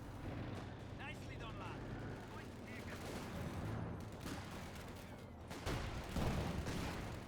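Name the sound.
gunfire and grenades in the video game Company of Heroes 2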